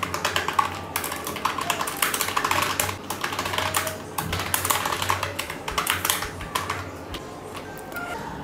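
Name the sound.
typing on a computer keyboard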